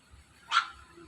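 A native village dog, a male, gives a single short bark at close to middle distance. Quiet surrounds the bark before and after.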